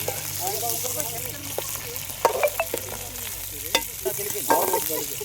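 Onions frying in a pan for biryani, a continuous soft sizzle with occasional sharp scraping and stirring clicks from a utensil, close by and fairly quiet.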